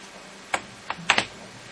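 Typing on the keyboard of an Archos 10.1 Internet Tablet: a few sparse, close clicks of keys, a couple grouped near each other, over a quiet background.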